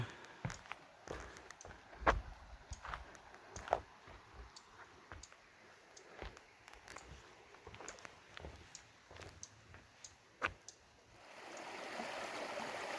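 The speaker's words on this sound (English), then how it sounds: "And this is that same creek, and this is where it's running, where it's falling and making noise." A quiet outdoor scene with scattered clicks and light taps gives way to a steady rush of a creek's running, falling water near the end.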